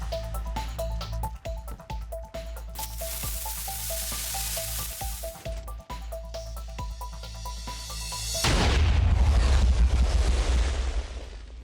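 Redstone-built cannons blast in the Minecraft video game: a sudden, loud, broad explosive roar bursts in near the end and rumbles on over earlier tonal in-game chimes and clicks.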